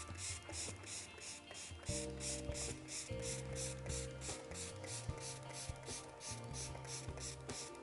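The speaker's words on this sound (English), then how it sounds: "So I'm just going to spritz this." An Atelier spritzer spray bottle mists water over acrylic paint in a rapid, even run of short hissing spritzes, with steady background music and a ratcheting trigger sound.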